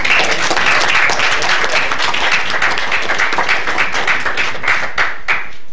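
A room full of people applauding at a city commission meeting, steady dense clapping that holds for several seconds and then thins out toward the end.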